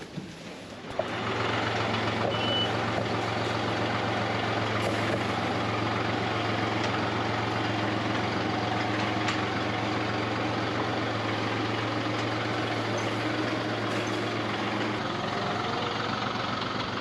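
A John Deere 5055E tractor fires up after a brief start and then runs at a steady, loud diesel idle. The low, even drone continues unbroken for the rest of the clip.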